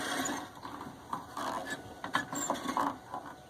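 A carbon pile battery load tester being turned by hand to put a heavy load on a Ford F150 truck battery, giving irregular close ratcheting and grinding clicks in short bursts.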